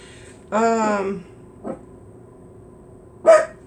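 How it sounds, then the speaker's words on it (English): A dog lets out a long, drawn-out bark, then a short yip, and later another sharp bark, nearby in a quiet room. "Sorry, my dog's barking."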